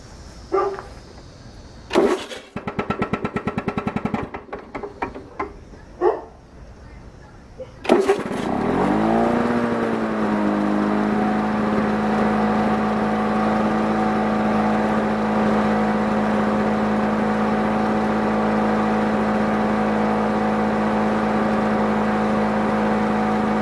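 A Lawn-Boy lawn mower, pull-started after a few cord pulls with rattling and sputters, then catches and settles into a steady, loud, close engine drone that runs to the end.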